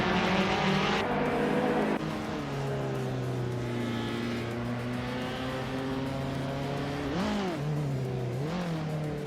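Race cars, including a 2003 Peugeot 206RC, launch at the start of a video game race on the Ails track, engines roaring loud and close with revs climbing and shifting, a brief tire chirp near the end.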